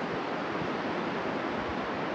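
The strong current of the Copper River near Chitina, Alaska rushes in a steady, dense wash of broadband water noise, with some wind buffeting the microphone and no voices.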